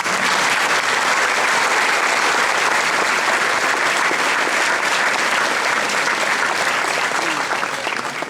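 Loud, steady applause from a civic audience at a mayor's New Year address in Vigneux-sur-Seine, dense clapping sustained without a break for over eight seconds, tapering slightly at the end.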